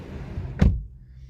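A single solid thunk of a 2022 Opel Astra car door closing, heard close by against a quiet background with a short fade afterward.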